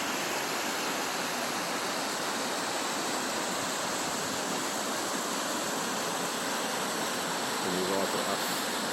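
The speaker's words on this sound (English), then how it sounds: "Kom die water af." Water rushes down steadily at the Bloukrans river pass in South Africa, a dense, continuous roar with no break.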